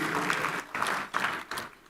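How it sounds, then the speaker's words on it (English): Audience applause for the breakfast servers at a full-house mayor's State of the City breakfast, a moderate crowd clapping in three short surging bursts that swell and fade. "give them a round of applause, please."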